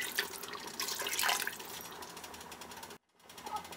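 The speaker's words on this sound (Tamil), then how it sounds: "நான் இதில் வந்து 3 டம்ளர் அளவு தண்ணி சேர்த்துக்கிறேன்." Water poured from a small tumbler into basmati rice inside a pressure cooker for a Chennai-style chicken biryani, a steady splashing pour near the microphone that breaks off briefly before trickling on again.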